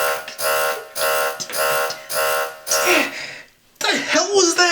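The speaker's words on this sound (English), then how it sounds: "That's our new opinion alarm I had installed." An electronic alarm sound effect goes off close and loud in five steady buzzing pulses with brief gaps between them, and a voice follows right after it.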